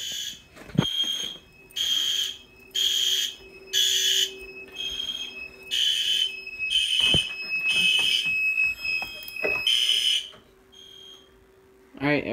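Fire alarm panel sounding during a system test: a loud electronic horn pulses in steady bursts, with a continuous high tone running underneath, and faint clicks and thumps in between.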